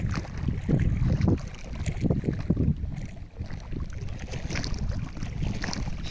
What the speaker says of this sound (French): J'aime bien ça, le bruit de l'eau.